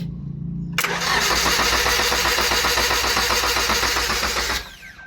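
A Toyota LiteAce engine cranks briefly and then catches, settling into a loud, steady mid-pitched running idle close by before dropping away near the end.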